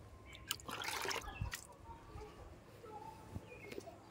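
Water poured onto a dry capsicum plant in a rooftop garden patters and trickles in soft bursts near the start, then fades to quieter drips against faint outdoor ambience with occasional bird chirps.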